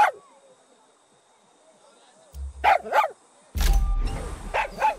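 Dog barking in the video game Far Cry 6, a few short barks in two bursts, fairly close, with game ambience and a voice around them.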